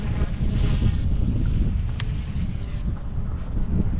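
Wind noise while flying an Eachine E120S RC helicopter outdoors, heard as a loud, steady low rumble of wind buffeting the microphone with no talking, a faint high whine running through it.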